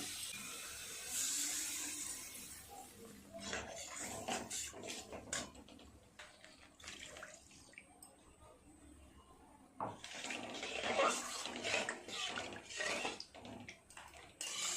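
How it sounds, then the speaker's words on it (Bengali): Water splashes into a pan of spicy vegetarian paneer gravy made without onion or garlic, a close, uneven rush in bursts that fades and surges again, with clinks and scrapes between pours. "দিয়ে দেব পরিমাণ মতো জল"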